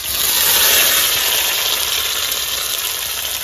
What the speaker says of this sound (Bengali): দিয়ে দেবো সরষের তেল, লঙ্কা দেবো, আর দেবো গোটা জিরে, কেটে রাখা পেঁয়াজ দিয়ে দেবো।